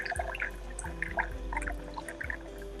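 Water is poured into a container holding freshly caught live shrimp, a soft, close trickle with scattered drips and light splashes running for a few seconds.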